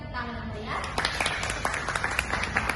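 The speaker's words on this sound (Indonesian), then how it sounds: "Mari kita berikan tepuk tangan yang meriah." An audience breaks into applause at an academic seminar, a burst of scattered clapping that starts abruptly after a brief pause and continues steadily, moderately loud, with voices murmuring underneath.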